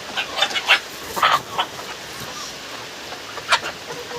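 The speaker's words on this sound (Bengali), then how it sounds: "দুটো মোরগ ওড়াবো, একটা লাল একটা কালো, দেখা যাক কত দূর ওড়ে এরা।" Two domestic deshi roosters, one red and one black, give a handful of short clucks and flutters in quick bursts, fairly close, with quiet stretches between them and no speech.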